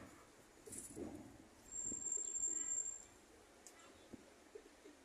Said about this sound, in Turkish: Bakın bütün duvarlar komple güvercin.